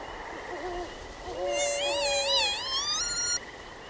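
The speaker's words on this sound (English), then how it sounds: "Mosquitoes humming, fleas dancing." Whining, wavering insect hums rise and drift over a quiet summer night scene in the Oscar the Balloonist forest game, several overlapping tones swelling in the middle and then cutting off.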